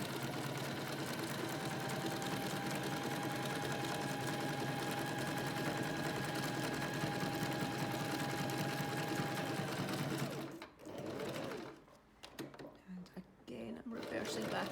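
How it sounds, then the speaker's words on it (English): A sewing machine stitches through a paper collage book cover, whirring steadily and loudly for about ten seconds, then stopping; a few brief handling sounds follow as the machine is reversed to finish the seam. "Reversing back a bit just to finish off my stitching."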